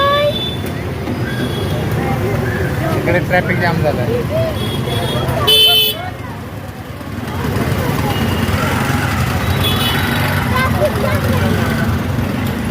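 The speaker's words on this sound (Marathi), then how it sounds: "ट्रॅफिक जाम झाला आणि मध्ये गर्दी करते हो" Car horns toot repeatedly over steady traffic rumble in a jammed street at a Maghi Ganeshotsav fair in Badlapur, with loud crowd chatter and voices throughout.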